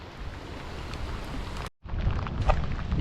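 Steady rain falling hard at Adgaon beach, with a dense, unbroken patter that drops out for a split second before resuming just as heavily.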